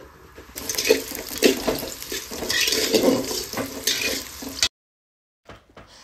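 Whole spices sizzle in hot oil in a cooking pot, the first step of a chicken dish, giving a close, continuous crackling fry with stirring scrapes that stops abruptly, leaving silence and a few faint clicks.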